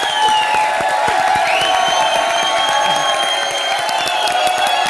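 A comedy show studio audience applauding and cheering, with dense, sustained clapping and scattered whoops at an even level throughout.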